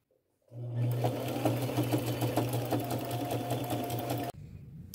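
A sewing machine stitches a floral appliqué onto a pair of jeans, running in one loud, steady, continuous burst for about four seconds before stopping abruptly.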